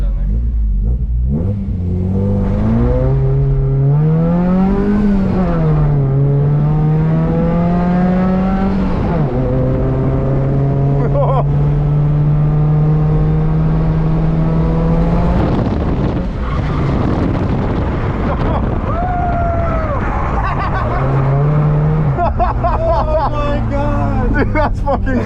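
A 130whp Volvo 740 wagon accelerates hard down a straight toward a drift entry, its engine droning loud and close, pitch climbing then dropping through several gear changes, with wind buffeting the microphone.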